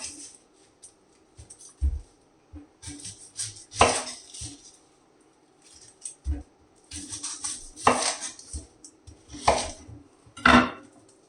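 An onion being cut up on a board with a knife while preparing vegetables for a green chili pork roast, giving scattered sharp chops and scraping sounds with quiet gaps between.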